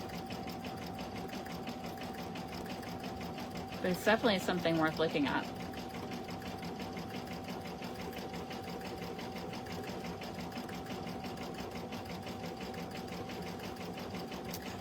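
Embroidery sewing machine stitching a freestanding design, a faint steady rapid whirring and tapping running throughout, with a brief louder burst midway and someone talking over it.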